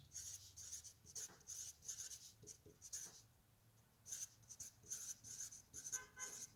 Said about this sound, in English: I'm going to use symbols here so I can reduce the amount of things I'm writing